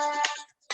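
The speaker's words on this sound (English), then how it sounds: "Okay, that's my phone." A mobile phone ringtone goes off during an annual general meeting indoors, a bright tonal melody with a short pause before it resumes, loud and close.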